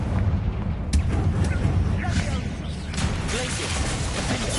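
Confringo fire spell blasts go off in Hogwarts Legacy as booming, rumbling explosions over a continuous roar of in-game combat, loud and close, while a voice speaks over the noise.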